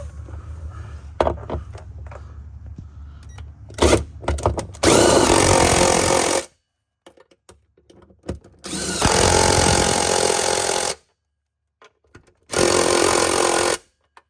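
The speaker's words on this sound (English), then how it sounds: "I'm gonna tighten these drive shaft bolts in the middle here." A power tool tightens drive shaft bolts under a car in bursts of loud, close whirring and rattling, three long runs separated by quiet gaps with small clanks.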